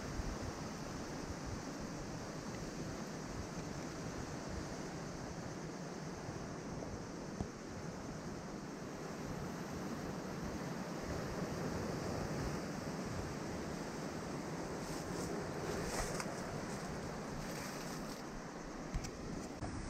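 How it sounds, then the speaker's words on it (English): At high tide, waves surge into a sea cave below a hillside, a faint, distant, continuous wash of surf roaring steadily under wind noise, with no voices. "it's high tide, water rushing in there"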